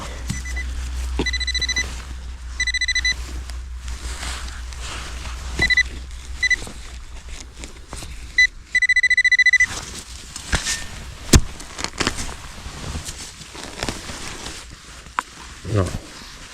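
Repeated steady electronic beeping tones from a metal detector signalling a strong hit, in short bursts, one long sustained tone near the middle, with someone speaking intermittently and rustling noise throughout.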